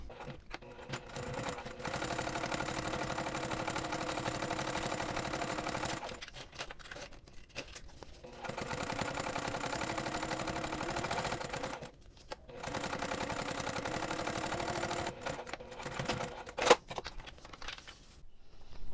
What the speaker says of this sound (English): just making sure that it's really pull and flat, okay? Because we are going to top stitch this now